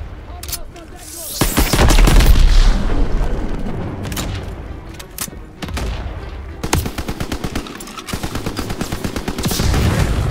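Dense gunfire in the Call of Duty WWII Hurtgen Hill battle, with rapid machine-gun bursts, single shots and heavy booms, loud and close throughout, under shouted soldier voices.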